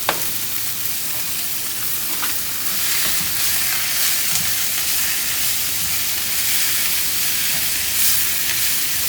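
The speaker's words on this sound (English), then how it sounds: "So you're going to keep doing this until the mince turns brown" Mince sizzling and frying in a pan while being stirred, a steady broadband crackle and hiss with occasional scrapes, close and fairly loud throughout with no talking.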